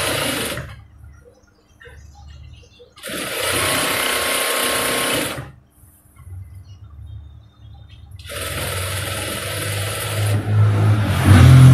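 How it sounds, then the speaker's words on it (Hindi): A sewing machine stitches a pillow cover in three loud, rapid bursts, with short quiet pauses between them as the fabric is turned. "यहाँ पर हम बोंट की सिलाई लगा देंगे"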